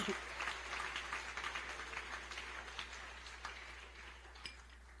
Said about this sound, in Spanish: Dele un aplauso al Señor en esta noche.